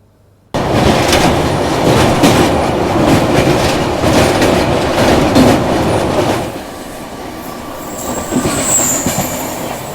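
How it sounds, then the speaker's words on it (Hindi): Indian Railways express trains, the Mahakaushal Express overtaking the Secunderabad Rajdhani Express on a parallel track, heard from on board: a loud, steady rumble and clatter of wheels on rails, which drops off to a quieter roll with a high wheel squeal near the end. "महाकौशल ओवरटेकिंग सिकंदराबाद राजधानी।"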